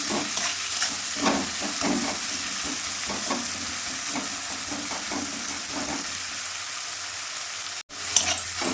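Onions sprinkled with salt fry in a pan, giving a steady hiss and sizzle. Stirring scrapes repeat at a regular pace, and a brief clatter comes near the end. No one speaks.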